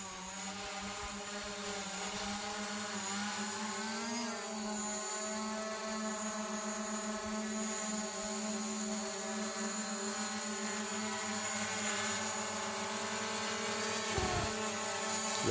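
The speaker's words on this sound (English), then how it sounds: "flying the drone" A drone flies overhead near mountain ATV trails, its propellers producing a steady, high, tonal whine that holds at a constant level for the whole stretch without talk.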